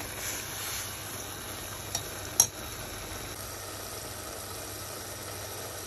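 Minced meat (keema) fries with spices in a pan, a low, even sizzle with soft scraping of the stir and a couple of brief clicks, with no talk.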